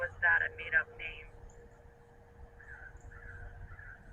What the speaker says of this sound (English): I think the crow agreed.